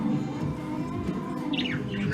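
A tame pet budgie chirps in short, bright bursts near the end, heard close up over a steady indoor room hum with no talking.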